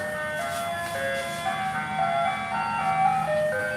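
Tinny, chiming ice cream truck jingle plays steadily, with a low motor rumble and road noise underneath.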